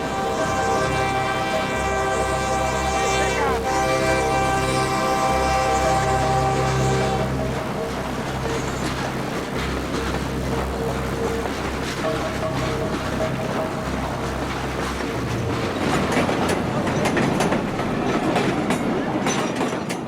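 A freight train rumbles steadily past in the Mexican countryside with rhythmic clickety-clack of wheels on rails and a long droning horn early on, heard close with no talking.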